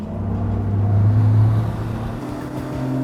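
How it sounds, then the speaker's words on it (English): A boat's outboard motor, trimmed all the way down, roars and climbs in pitch as it accelerates at full throttle from deep water, loud and close, with a steady mechanical drone. "we're gonna demonstrate just a basic hole shot, motor trimmed all the way down"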